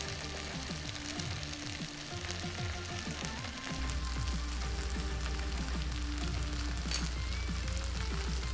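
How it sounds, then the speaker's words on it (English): Kimchi fried rice toasts in a hot pan with sesame oil, giving a steady close sizzle and crackle that thickens partway through into a fuller, continuous frying hiss with scattered pops. "at the end, toasting the rice"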